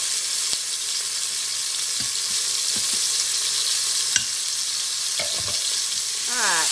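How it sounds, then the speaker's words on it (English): Ground beef browning in a hot frying pan for a Southern supper, a loud continuous sizzle and hiss with occasional scrapes and taps of a utensil, close and without talking. "I'm going to put the rest of the beef in there. And we're going to let that get browned up."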